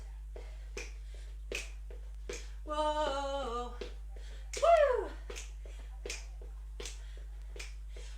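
Sharp claps or snaps land at a steady beat through a live exercise class, spaced about once a second, with a brief musical melody and a sung exclamation rising over them midway.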